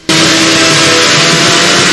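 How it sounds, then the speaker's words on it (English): A race car engine roars in the Dreamcast racing game CART Flag to Flag, a very loud, constant droning whine that cuts in abruptly and holds steady with no talk. "it is consistently drowned out by the absolutely deafening engine noise"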